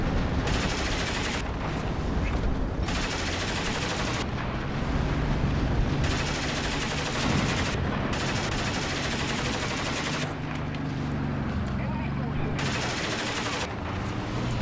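Gunfire in the War Thunder tank game crackles in dense, continuous bursts with heavy booms mixed in. Battle noise stays steady throughout and no one speaks.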